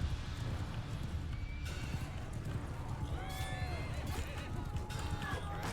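Horse struck in battle in Mount & Blade Bannerlord, whinnying in several sharp rising cries over steady hoofbeats and loud battle noise.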